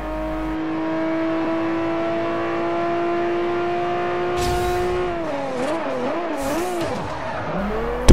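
A car in Forza Horizon accelerating with manual gear changes: a steady, high engine whine that drops with each shift, then wavering revs and a screech of tires, loud and near, with no talk.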